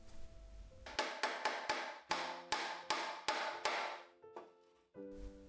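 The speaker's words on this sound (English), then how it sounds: "I'm using a pestle instead of a hammer" About ten sharp, ringing metal strikes at a steady pace, each decaying quickly, as nails are hammered with a pestle instead of a hammer.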